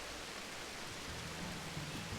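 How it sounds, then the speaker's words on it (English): Steady rain hisses in Final Fantasy XIV, a soft, even wash of patter with no speech, ending with a faint small click. "It's raining."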